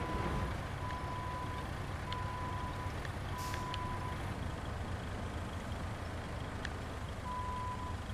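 A heavy truck in the RoadCraft game reverses to push a trailer, its backup alarm beeping in steady, evenly spaced pulses over a constant low engine drone.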